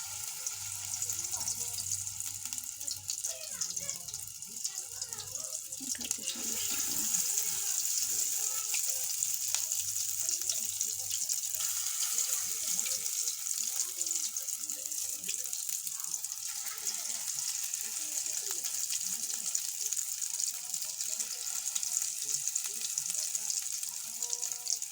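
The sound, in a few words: fish roe pakoras frying in oil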